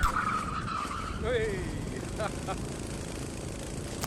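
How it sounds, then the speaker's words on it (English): Locked tires on a ProKart skid and squeal through a hairpin corner on a kart track, a brief wavering screech over steady engine and wind noise, with someone talking throughout. "Then coming into the hairpin, I get a bit overconfident on the brakes and lock them up."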